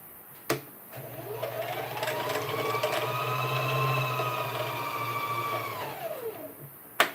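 A sewing machine stitches an Ankara fabric top in one continuous whirring run of about five seconds. It winds up and later slows to a stop, with soft clicks before and after.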